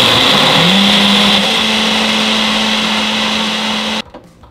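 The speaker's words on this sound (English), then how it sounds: "Now, I get to use my fancy schmancy graduation present blender." A Ninja blender whirs through a single-serving smoothie, a loud close motor whine that rises in pitch early, holds steady, then cuts off abruptly, leaving faint clatter.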